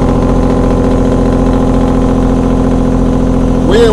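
Peterbilt 379 with a CAT engine running a 7-inch straight pipe, engine brake engaged, giving a loud, steady, rapid pulsing rumble that holds throughout with a slight change at the end.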